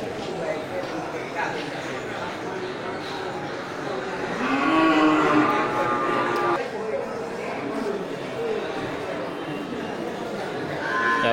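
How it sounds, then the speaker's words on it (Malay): Water buffalo at a livestock market in Gelumpang Payung, moos rising above a steady din of crowd chatter and nearby talking, with a longer low call in the middle. "itu dia suasana di pasar hewan Gelumpang Payung di pasar kerbau tanggal 9 Oktober 2021"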